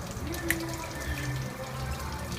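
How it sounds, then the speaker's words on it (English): Water trickles and drips out of a 2003 Renault Clio 1.2 16v windscreen washer during motor replacement, a close, steady splashing with small drip sounds and no voices. "And the water coming out."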